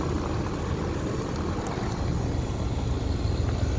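A 2008 Trane XB13 3-ton central air conditioner runs close by, its outdoor fan and compressor making a steady, loud broadband whoosh that does not change throughout, with no voices.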